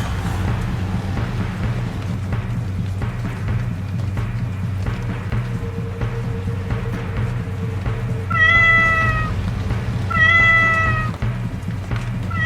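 Two drawn-out cat meows from a witch turned into a cat in an animated horror story, each a loud, wavering cry heard near, rising over a low rumbling background ambience, with no talking.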